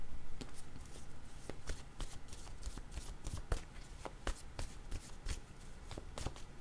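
Tarot cards being shuffled by hand to draw a card, with a rapid series of crisp riffling snaps and soft slaps, close and fairly quiet, and no talking.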